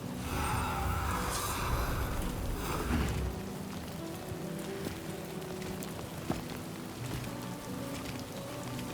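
Rain falls steadily in the video game Death Stranding 2, a dense hiss of drops on surfaces that runs throughout, heavier at first and then settling into a constant wash.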